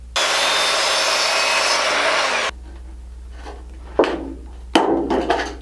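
A 10-foot length of gutter being sawn in half gives a loud, steady rasping burst for over two seconds, then falls quiet, followed by two shorter scraping strokes.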